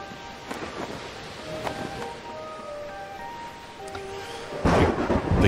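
Rolling thunder with steady rain from a stormy scene in the video game Old Man's Journey, low rumbles swelling throughout and building to a loud crack near the end, no voices.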